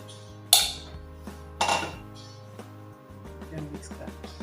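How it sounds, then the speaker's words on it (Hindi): Crushed almonds are stirred into almond cake batter in a home kitchen, giving a couple of loud metallic scrapes and clinks of a utensil against a bowl, followed by softer tapping, with a low hum underneath. "अब हम ये जो बादाम है इसके अंदर मिक्स कर"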